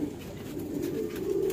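Pigeons coo softly at night while feeding after evening rain, a low, steady murmur of cooing from a flock with no talk.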